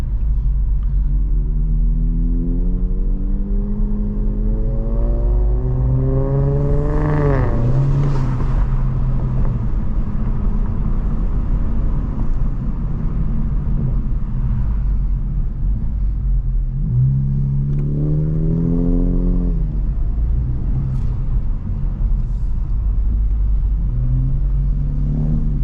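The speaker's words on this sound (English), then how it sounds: "I'd let you guys hear the turbo" A 2025 Honda Civic Type R's turbocharged engine accelerates hard through the gears, its loud droning rumble climbing in pitch, dropping at each shift, then pulling again over steady road noise from inside the car.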